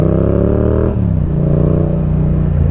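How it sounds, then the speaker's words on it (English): A Yamaha MT-07 crossplane twin motorcycle engine revs steadily with a deep, throbbing, uneven rumble that dips briefly before surging again, loud and close. "The sound that the crossplane makes is one of my favorite things about this bike"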